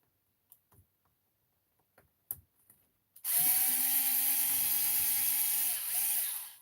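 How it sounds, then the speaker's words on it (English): Small screws being backed out of the side plate of an RC car chassis with a powered driver: a few light clicks and taps, then a steady, loud whirring spin for about three seconds that dips briefly before stopping. "while I've got this driver, I'm going to go ahead and pop out the screws for this last little side plate"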